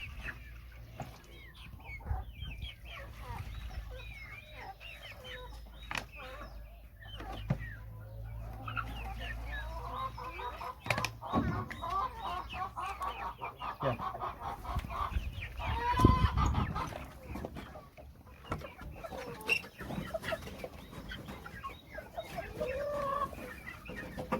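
Chickens in a coop cluck and murmur on and off at moderate distance, with occasional louder squawks and light shuffling and knocking noises mixed in, no speech.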